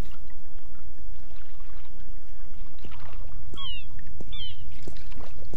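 Steady washing ocean waves in a video game, The Longest Journey, with a rushing low roar, joined near the end by a few high chirping bird calls and light knocks.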